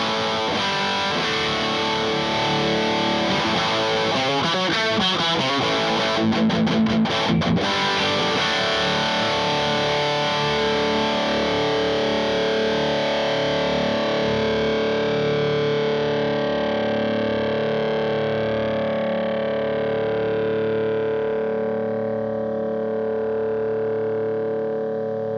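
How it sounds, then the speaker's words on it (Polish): A custom electric guitar with heavy distortion plays sustained, saturated chords and notes alone, with a busier strummed passage near the middle before a long ringing decay. "No i dobra, czas na przester."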